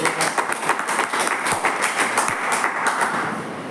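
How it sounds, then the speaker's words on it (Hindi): Audience clapping for themselves at a live health and product demo event, a dense steady patter of many hands at moderate level that tapers slightly toward the end. "सब लोग अपने लिए एक जबरदस्त तालियां"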